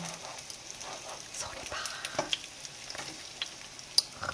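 Tteok-kkochi, Korean rice cake skewers, frying in oil with a faint, steady crackling sizzle and small pops, under a speaking voice.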